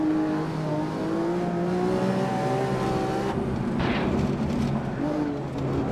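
Lamborghini Aventador SV engine in Assetto Corsa, a loud, steady high-revving V12 whine with shifting pitch and gear changes, continuous throughout and briefly overlaid by a voice.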